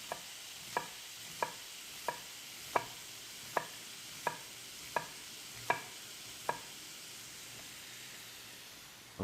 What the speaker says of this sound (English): take a red onion and I'm just going to cut super thin slices